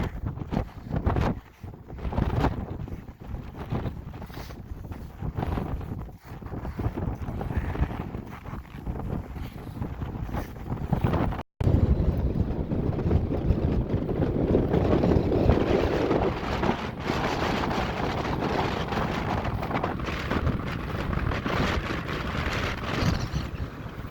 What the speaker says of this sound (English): it is extremely windy right now. Wind gusts up to 50 easily